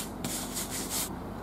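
Scrubbing a roof shingle with a soft scrub cleanser: a second of close, harsh, rhythmic scouring strokes, with a quieter stretch before and after.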